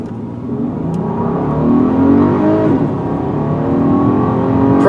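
A 2021 VW Atlas SUV with a 276-horsepower V6 accelerates hard, its engine note climbing steadily in pitch and staying loud and close throughout, with no talking.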